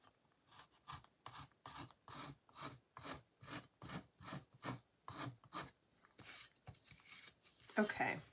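Paint is scraped off a Christmas farmhouse-style gingerbread craft piece to give a chippy finish: a rhythmic series of about fifteen rough, rasping strokes, close and fairly quiet, ending in a brief louder scuff, with voices faintly present.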